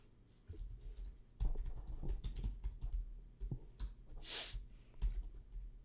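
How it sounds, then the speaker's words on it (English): Computer keyboard typing on a livestream, a quick irregular run of close, soft key clicks and clacks that pause briefly and resume, with no talking. "I'll type the names out of the winners."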